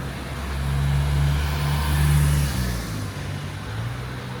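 Cars pass on a street in Benidorm, a steady loud engine and tyre rumble that swells and fades as vehicles go by close, with no talking.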